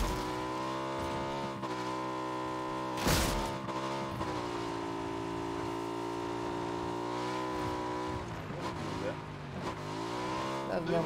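A motorbike engine in the PUBG video game drones steadily with a tonal hum that shifts pitch as it speeds up and slows. A sharp burst cuts in early, and players talk over it.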